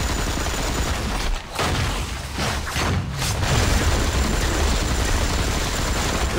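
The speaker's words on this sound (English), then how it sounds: "Who's shooting me?" Dense, continuous gunfire from the Marvel Heroes 2016 video game, a loud sustained barrage of rapid shots with booming impacts running through the whole stretch, with brief dips around the middle.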